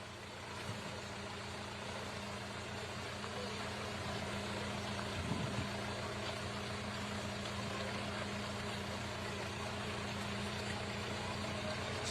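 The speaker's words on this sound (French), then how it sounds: "c'est le tracteur qui avait une remorque avec des écoliers derrière" Tractor engine pulling a trailer carrying schoolchildren in the Algerian steppes, a steady low idling rumble held at moderate distance for the whole stretch, with no talk over it.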